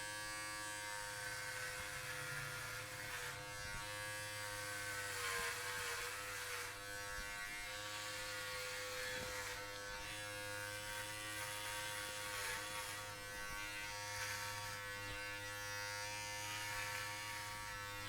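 An electric hair clipper running during a self-done buzz cut with a #2 guard, a steady close buzzing hum that holds on continuously with slight wavers as it moves through the hair.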